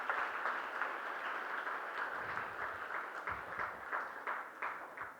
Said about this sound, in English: Can I request a big round of applause for all the parents,